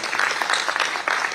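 A festival audience at a film festival performance gives a short burst of lively clapping, many hands rattling together for a brief moment.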